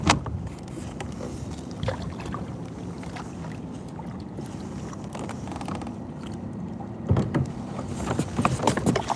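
A bass-fishing boat runs up a lake, giving a steady low engine rumble with water rushing and slapping against the hull, continuous and close, with a couple of louder bumps near the end.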